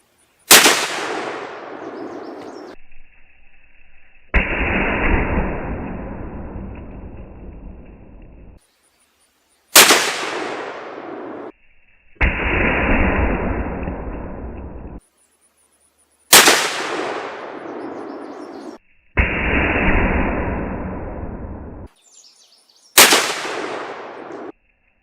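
Rifle shots fired at fruit targets set out at 100 yards, four loud sharp cracks spaced several seconds apart, each followed by a long rolling echo decaying across the range, with no talking.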